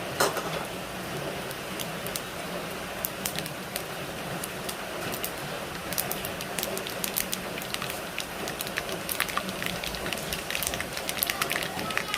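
Mustard seeds pop and crackle in hot oil, sharp irregular snaps scattered over a constant sizzle.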